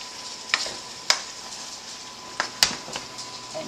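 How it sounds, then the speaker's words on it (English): Taco lasagna meat and tomatoes sizzle steadily in a pan, with a few sharp scraping clicks from a utensil stirring, close and even, no talking. "Stir that."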